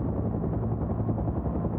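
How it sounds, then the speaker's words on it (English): A helicopter's rotor beats in a steady, dense low thrum, loud and continuous throughout, with no voices over it. "That's a cool looking helicopter."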